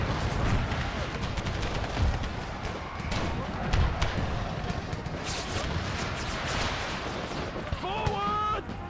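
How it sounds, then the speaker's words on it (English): Allied musket volleys crackle through a Gettysburg battle video game, a steady dense patter of shots over a rumbling battlefield, with a brief whistling tone near the end. "my allies finally helping out with some musket fire."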